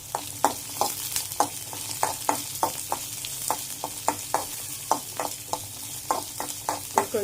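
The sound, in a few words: garlic and cumin frying with green chillies in oil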